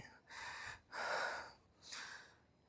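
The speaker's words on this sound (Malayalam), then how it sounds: "ഇതാണ് ആ വ്യൂ പോയിൻ്റ് കിതപ്പ് മാറിയിട്ടില്ല" Heavy panting from someone who has just walked uphill through forest to a viewpoint at Kakkadampoyil: three loud, drawn-out breaths close to the listener, with short pauses between them.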